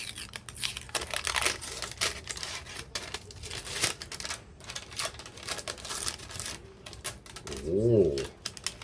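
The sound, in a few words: peeling protective film off a Transformer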